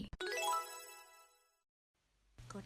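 Bright chiming notification jingle from a subscribe bell, a single ringing tone with many sustained overtones that decays over about a second and a half, followed by near silence and a brief low hum at the end.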